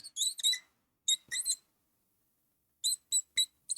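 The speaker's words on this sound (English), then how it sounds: "Markers are extra squeaky today." A marker squeaks sharply across a whiteboard in a chemistry lecture, several short high-pitched strokes in clustered bursts separated by quiet pauses, close and alone without talk.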